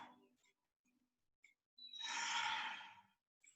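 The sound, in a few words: deep ujjayi yoga breath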